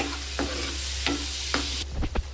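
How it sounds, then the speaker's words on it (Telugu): Lemon juice being stirred into a pulihora tempering in a pan, with a few distinct scraping strokes over a steady frying hiss. "ఆ రసం వేసుకొని మళ్ళీ ఒకసారి మంచిగా కలుపుకోవాలి"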